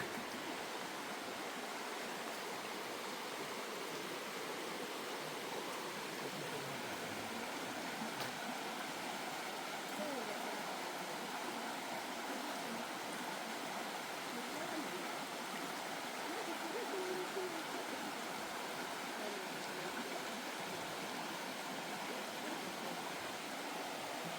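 A steady, broadband rush of a river flowing close by a riverside gazebo at a trout farm, continuous and even with no voices.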